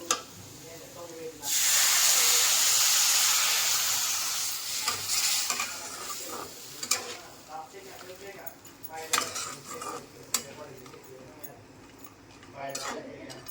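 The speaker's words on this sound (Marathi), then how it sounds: "याच्यामध्ये मी अर्धा ग्लास पाणी टाकणार आहे" Half a glass of water poured into frying masala for a bombil dish sets off a loud, steamy hiss lasting a few seconds, then it settles into softer sizzling with spoon clatter and stirring.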